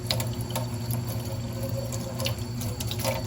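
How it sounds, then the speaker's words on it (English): Tap water runs steadily into a sink, with small clatters and knocks of razor clam shells being rinsed under the stream. "So clean them off through the running water as much as you can."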